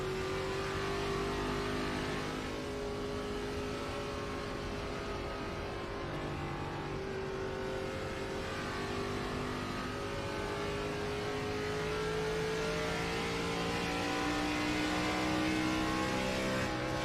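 Gen 4 race cars lapping Charlotte's quad oval in a racing game, a loud sustained engine drone with rising and falling pitch sweeps as the car accelerates and other cars pass nearby, no talking.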